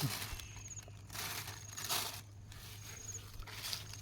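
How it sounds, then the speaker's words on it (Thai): Foraged wild mushrooms are dropped into a plastic bag outdoors, making several soft bursts of crinkling and rustling against a low steady background hum. "เดี๋ยวใส่ถุงก่อน"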